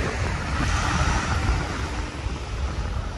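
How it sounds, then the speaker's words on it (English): Steady, loud wind rumble buffets the microphone on Pakefield Beach, Lowestoft, on a cold, foggy day, over a broad wash of surf-like noise, continuous throughout with no voices. "Sorry about the wind if it's windy."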